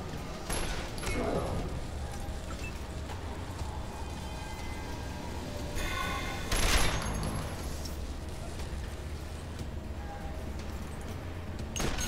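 Gunfire in the video game Wasteland 2, with short volleys of shots bursting out twice over a steady game background, the second burst louder and sharper.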